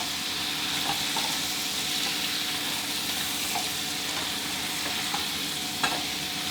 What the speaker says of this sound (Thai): ผัดคลุกเคล้าให้เข้ากันดีเลยครับ